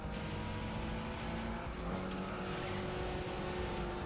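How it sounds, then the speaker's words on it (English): A truck driven through the Ginza C1 route in the Tokyo Xtreme Racer video game drones with a steady engine hum and road noise at a constant moderate level, without voices. "First time of me driving this truck."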